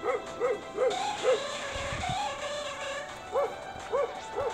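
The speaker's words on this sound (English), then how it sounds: "A lot of dogs here." Several dogs bark and yip in a rhythmic series at a moderate distance, set in an outdoor spot in Pho Tan with a steady background hum and no talking.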